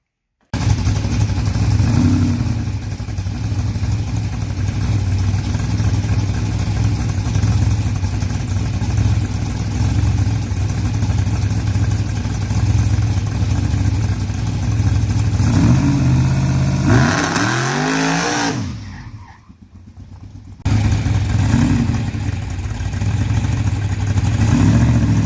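Old truck engine fitted with a 6-71 supercharger revs loudly and steadily with a deep mechanical roar, briefly dropping off near the end before picking back up.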